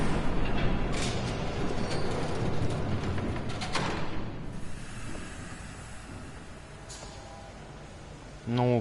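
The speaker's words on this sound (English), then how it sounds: "There's a train coming." A train in the Batman Telltale video game rumbles and rattles loudly up close. A dense mechanical roar fades slowly toward the end, with a brief voice at the close.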